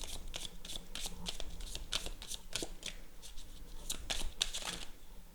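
Tarot cards are shuffled by hand close up, a quiet rhythmic run of riffling flicks and soft paper slaps repeating steadily.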